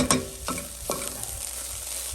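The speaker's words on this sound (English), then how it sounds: "I just want to give it a quick stir" Onions and garlic stirred in a hot pan, three scraping strokes in quick succession over a continuous soft sizzle, close and clear with no talking.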